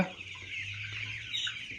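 Naturally raised chicks and chickens clucking softly on a farm, a faint continuous chatter of small calls with a brief higher chirp near the end, heard alone without talk.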